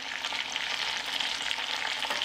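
Steady crackling sizzle of browned meat and a halved onion frying in a hot pan, continuous and close, with no voices.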